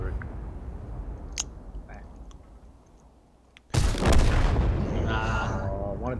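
Video game artillery: quiet distant rumbles give way to a sudden loud boom with a long roaring tail, and a voice talks during the blast.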